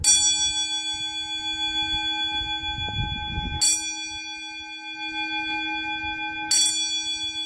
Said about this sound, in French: donc je sonne les cloches